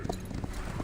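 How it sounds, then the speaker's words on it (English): A horse's hooves clip-clop in quick rhythmic beats as it charges, a sound effect from the video game Reverse: 1999, set amid fierce alpine wind. The brief burst is dense and close. "The Sarsen lifts its hooves and charges into the fierce alpine wind."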